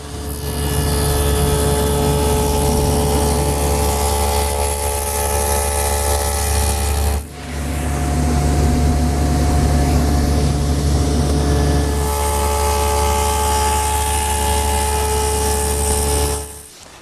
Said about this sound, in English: The first milling operation for the top is to make this tongue on the end of the large